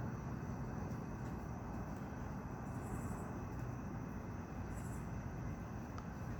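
A small airplane from a nearby airport flying overhead, a steady broadband drone that holds constant and fairly distant throughout, with no voices.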